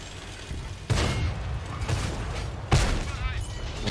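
Booming cannon shots and gunfire strike targets in a tank video game, two heavy blasts standing out over a rumbling battle background, with someone talking over it.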